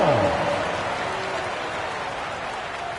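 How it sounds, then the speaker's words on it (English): Basketball video game arena crowd applauding for a dance crew, a dense, steady wash of clapping and cheering throughout, with a brief announcer-like voice at the start. "Give them a round of applause."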